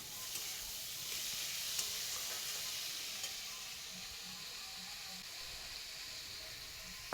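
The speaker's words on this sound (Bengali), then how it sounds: "তেলটাকে একটু ভেজে নিয়ে তারপরে কিন্তু বেগুন আর পেঁয়াজটা দিয়ে দিলাম" Brinjal and onion fry in oil with a soft, continuous sizzle and hiss, broken by a few faint stirring knocks and clicks.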